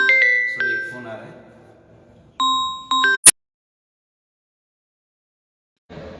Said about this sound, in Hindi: सॉरी, एक फोन आ रहा है।